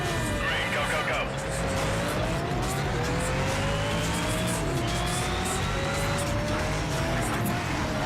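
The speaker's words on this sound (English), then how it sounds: "This car sounds like it's suffering." A Koenigsegg engine revving hard during a race in Need for Speed: Shift, a loud continuous whine that climbs in pitch, with tire squeals and someone talking over it.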